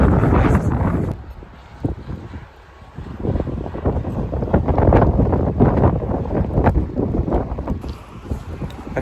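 Gusty wind buffets the microphone outdoors on a sunny yet rainy day, a loud continuous roar that surges and briefly drops before building again.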